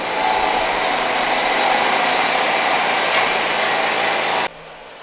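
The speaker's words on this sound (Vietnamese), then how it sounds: "Bắt đầu đường cưa đầu tiên" A loud, continuous buzzing roar runs for several seconds as a saw makes a first cut through the top section of a huge tree log, then cuts off abruptly near the end.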